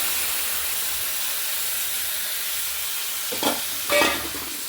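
Mutton bones and meat fry with chili, turmeric and garam masala, giving a loud steady sizzle and hiss throughout, with a couple of stirring clatters near the end and no talking.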